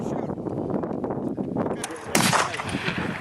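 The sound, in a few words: F Class target rifle shots during blow-off period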